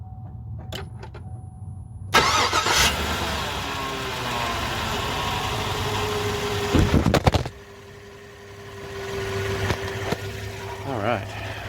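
A 2015 GMC Sierra pickup's 5.3-litre V8 cranks and catches close up in the engine bay, a loud burst of starter and engine roar that drops into a steady idle hum, with brief clicks and a voice near the end.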